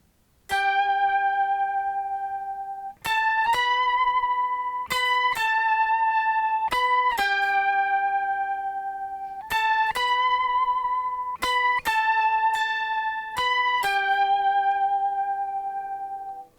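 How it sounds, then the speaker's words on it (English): Electric guitar riff shifted up an octave and run through the Ricochet effects unit, with bright plucked attacks in a steady melodic pattern of sustained, shimmering notes with short gaps, loud and clean with no talking. "let's jump the guitar up a little octave, and let's go and play that pull riff and just see how it's now sounding with these effects on there"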